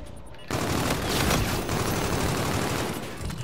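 Video game gunfire fills the scene after a brief quiet start: a sustained, loud fusillade of overlapping shots that roars without a break to the end.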